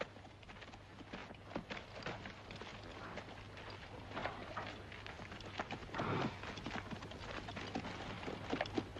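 Horses' hooves clatter faintly in a Western film, a busy, uneven clip-clop mixed with other low background noise. No one speaks.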